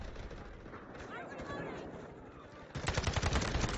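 Sniper fire in the Delta Force video game, heard as rapid bursts of sharp gunshots in the final second, loud and close, following a stretch of busy battlefield noise.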